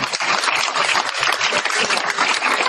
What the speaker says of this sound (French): Je laisse les applaudissements.